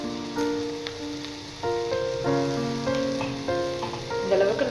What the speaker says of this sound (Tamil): எண்ணெயில் நல்ல மசாலாலாம் வணங்கிடுச்சு